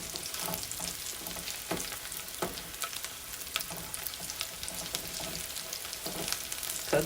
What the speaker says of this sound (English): I just want to just keep caramelizing them in all of this goodness that's in this pan